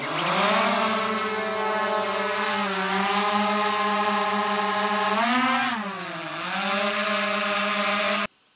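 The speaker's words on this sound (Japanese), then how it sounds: "中央のボタンを長押しするとプロペラが回って上昇します。" A DJI Mavic Air 2 drone's propellers spin up at takeoff, a loud, close, steady whine with stacked harmonic tones that rise and dip in pitch as it lifts, then stop abruptly.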